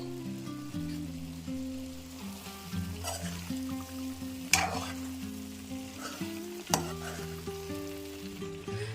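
Chicken ghee roast sizzles in a pan as fresh coriander leaves are stirred through, a constant crackling fry broken by a few sharp scraping stirs, with steady music playing underneath.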